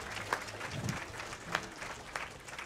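Audience applauding at a programming championship event, fairly faint scattered clapping from a crowd with a few sharper individual claps standing out over a low murmur.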